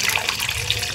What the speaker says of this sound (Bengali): পরিমাণ মতো জল দিয়ে দিয়েছি।